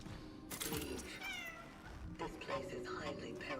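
A cat meows in the video game Cronos: The New Dawn, several drawn-out, rising and falling cries spread across a few seconds, clear and fairly close, with a voice talking in between.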